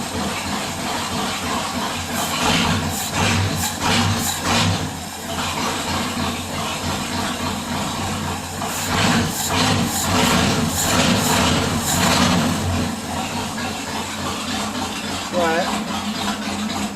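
A Ford 351 Windsor V8 idles steadily in a 2002 Ranger, its carburetor still needing tuning. The exhaust is loud and rough with pulsing surges throughout, and a voice speaks briefly over the engine.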